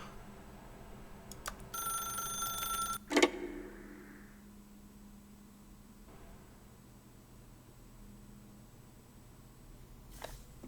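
An old-style telephone in The Stanley Parable rings with a bright, rapid bell trill for about a second. A sharp clunk follows as the receiver is picked up, then a quiet room hum with one faint click near the end.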